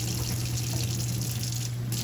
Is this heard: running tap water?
yes